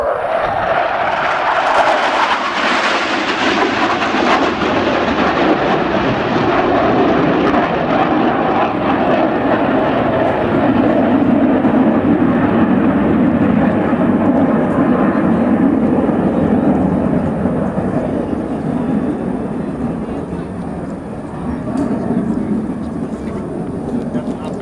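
Early generation jet airplanes roar past at an air show, loud and sustained, the engine noise swelling and sweeping down in pitch as they pass, then easing slightly toward the end; no talking.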